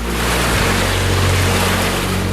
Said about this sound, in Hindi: यहाँ देखिए किस तरह गंगा की लहरें रौद्र रूप धारण करने लगी हैं।